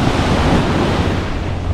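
Ocean waves and surf at a shoreline, a loud, continuous broadband wash with low rumble and wind noise on the microphone, steady with no break.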